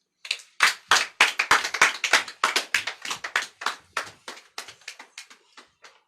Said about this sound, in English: One more time, put your hands together for Igor Fletcher